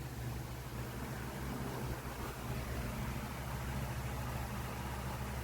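Steady, broadband whoosh of a Lasko 16-inch stand fan running at medium speed, with a low motor hum underneath, constant and unbroken throughout.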